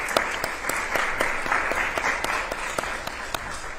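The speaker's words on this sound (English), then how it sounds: "Let's give a round of applause." An audience at a city candidates forum claps steadily, a moderate continuous patter of many hands with occasional sharper individual claps standing out, heard from within the room.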